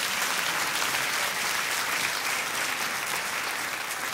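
Loud, sustained applause from a church congregation during a sermon, a dense continuous clapping wash filling the whole stretch without letting up.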